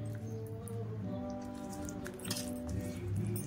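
Soaked tamarind mashed by hand for a sweet-sour pickle, giving wet, squishy squelches and soft sticky clicks that run steadily up close, with a low hum behind them.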